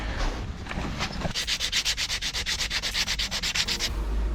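Rapid back-and-forth sanding strokes on battery contacts, about twenty quick rasping passes in a steady rhythm, close and fairly loud, with no voices.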